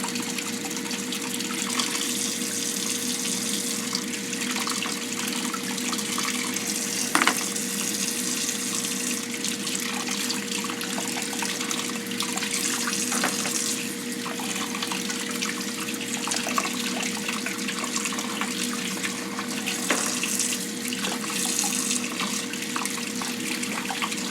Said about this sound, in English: You can probably stop running the water since all the rocks are submerged at this point.